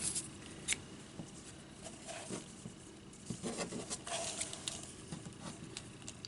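Scissors trim glued ribbon for a shabby chic Christmas tag, heard as faint scattered snips and rustling handling noise over a hissy background, close but quiet, with no speech.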